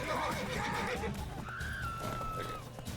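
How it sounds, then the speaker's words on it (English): A horse whinnies loudly in The Witcher 3, a shrill rising-and-falling call followed by a second, longer neigh, with game sounds and faint talk beneath. "Look at that horse kicking."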